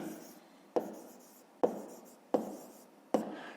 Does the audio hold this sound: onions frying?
no